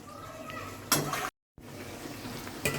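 Fish with spices fries in a pan with a steady close sizzle and occasional louder bursts of stirring, cut by a brief moment of total silence before the hiss resumes.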